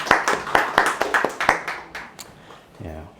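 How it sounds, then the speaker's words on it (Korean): A church congregation at a New Year's Eve service claps together, a short burst of sharp, fairly close hand claps in a quick rhythm that thins out and fades, followed by a voice speaking. "박수 한번 치고 가겠습니다"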